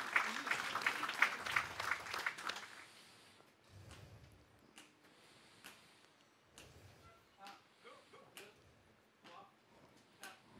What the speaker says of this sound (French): on peut les applaudir, tout à fait